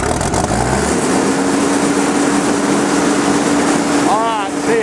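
A 2005 Gehl CTL80 high-flow, two-speed skid steer's large diesel engine starts up, a loud cranking rumble that catches and settles into a steady idle, with a faint rising whine near the end.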